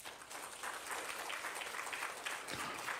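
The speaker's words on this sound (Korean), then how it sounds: "우리 한번 박수 보내주시겠습니다" A church congregation claps together in a steady, moderately loud round of applause for a newlywed couple during a Sunday worship service, carrying on for the whole few seconds.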